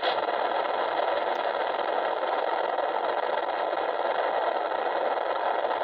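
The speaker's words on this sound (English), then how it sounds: "You can hear the revs of the RPMs of the motor decreasing." The electric motor of a Carbon Cub S2 RC airplane whines steadily during an FPV flight descent, a continuous buzzing drone heard close, likely from the onboard camera, with no talk over it.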